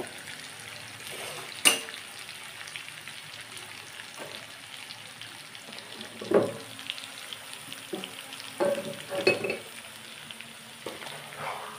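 Chicken chap sizzles in mustard oil in a pan with a soft, steady frying hiss. Occasional sharp clinks and scrapes of a utensil against the pan break through it, all close by and without talk.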